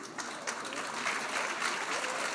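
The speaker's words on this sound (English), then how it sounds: "like a slow clap, y'all" Slow, sparse clapping from a panel audience at ComplexCon, steady and fairly close, blending into a continuous wash of crowd noise with no speech over it.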